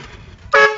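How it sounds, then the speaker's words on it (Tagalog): A loud horn on a vehicle fitted with a heavy overload electrical setup and compressor blasts once, a single sustained honk of about a sixth of a second that rises sharply out of quiet background noise. "yung kanyang busina"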